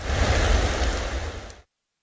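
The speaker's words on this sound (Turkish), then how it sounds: "Karın erimesiyle ufak şelaleler oluştu." Small waterfall formed by melting snow on a Turkish highland, heard as a steady, dense rush of falling water that continues evenly before cutting off abruptly.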